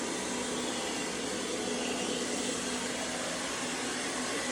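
An ONSON robot vacuum cleaner running on a floor gives a steady, even motor whir with a faint constant hum, close and unbroken for the whole stretch, with no talking.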